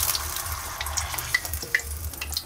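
Chilies fry in very hot oil, giving off a close, continuous sizzle broken by sharp pops and crackles, with a few soft clinks and a low hum underneath.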